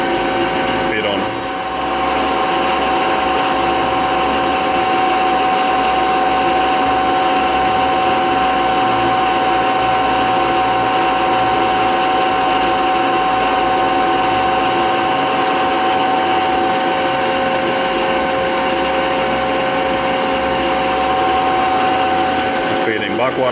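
Lathe spindle running steadily while cutting down a piston's deck height, a continuous machine hum with a fine cutting tone throughout, close and fairly loud.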